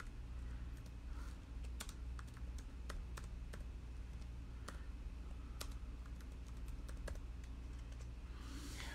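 Steady typing on a computer keyboard, a run of quick irregular clicks and sharper key taps over a constant low hum, fairly close and with no talking.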